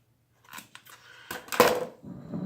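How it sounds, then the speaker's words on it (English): Scissors snipping a small piece of ribbon on a Dollar Tree elf candy jar craft, a few close, crisp cuts and rustles building to a louder snip. "And then just cut this little piece off here."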